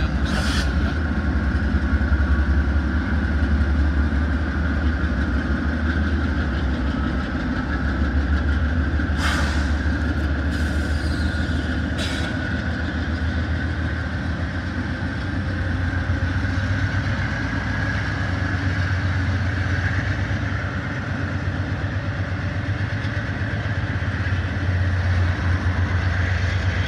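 GE Dash 8 and AC44 diesel locomotives idling at an intermodal rail yard, a continuous loud low rumble with a steady droning hum, broken by a few sharp clanks partway through.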